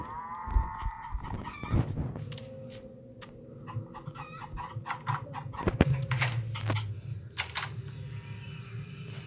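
Chickens clucking and squawking in a video game, a busy flock with sharp, irregular calls and bursts scattered across several seconds, fairly close, with no talk over them.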